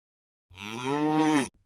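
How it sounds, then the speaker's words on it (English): A single cow moos once, a clean sustained low call of about one second rising slightly in pitch and then cut off, heard alone against silence. "This is a cow."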